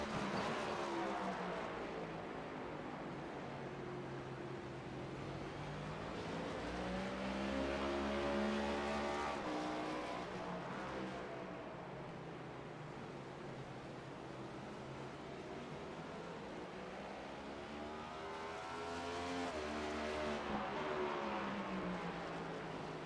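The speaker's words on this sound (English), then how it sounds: "We're going to go on board with Josh Robinson for a few hot laps here in the engine's roar" Race car engines roar around Martinsville Speedway in a sim race, a continuous loud drone whose pitch sweeps up and down as cars accelerate and brake through the short oval's turns, with no talk over it.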